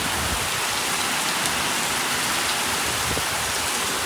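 Heavy rain pours in a dense, unbroken roar over a cowshed, loud and steady with no voices.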